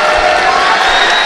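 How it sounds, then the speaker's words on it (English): A Littlejohn Coliseum crowd at a Clemson men's college basketball game against Western Carolina gives a steady, loud wash of applause and crowd noise with faint cheers throughout. "Good hand from the Littlejohn crowd"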